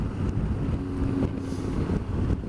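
A strong gale buffets the microphone on a motorcycle tour through Spain and Portugal, with continuous loud low rumbling gusts and no voices.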